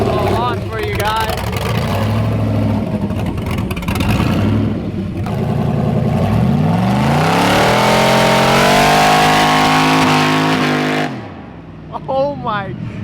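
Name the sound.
Pontiac GTO drift car launching on drag radials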